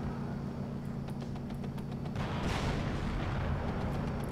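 Tank cannon fire in the Cold War strategy game WARNO, a series of rumbling booms and blasts rolling over a dense low battlefield din, with one heavier explosion swelling midway.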